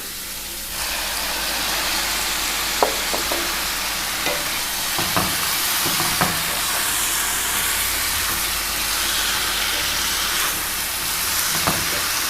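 Tomatoes dropped into onions already frying in a pan give a steady, close hiss and sizzle, broken by a few soft clicks and scrapes of stirring, with no talking.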